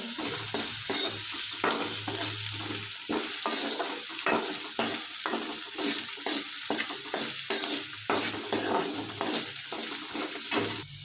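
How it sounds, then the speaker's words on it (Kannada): Chopped onions frying on medium flame, stirred in a pan with steady sizzling and repeated scraping strokes of a spoon throughout, close and fairly loud with no talking. "ಇದನ್ನು ಮೀಡಿಯಮ್ ಫ್ಲೇಮಲ್ಲಿ ಇಟ್ಕೊಂಡ್ಬಿಟ್ಟು ಹುರ್ಕೋಬೇಕ್ರಿ ಚಲೋ"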